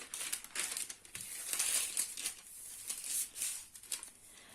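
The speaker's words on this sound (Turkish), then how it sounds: "tam düzgün çizebilmek için kağıdımı böyle ikiye katlıyorum" Fabric or paper crinkles and rustles close up as it is folded in half while drafting a medical scrub cap pattern, a steady crumpling texture with no talking.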